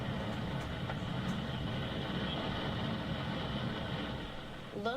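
Steady, loud, broadband roar of a wind-driven California wildfire, a continuous dense rush without pauses, close and enveloping throughout.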